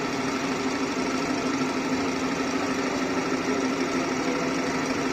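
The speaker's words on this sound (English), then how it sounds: "vertical milling machine is more suitable for this end milling operation" A vertical milling machine doing end milling with an end mill cutter, giving a steady, loud mechanical whir and hum with a constant drone and no breaks.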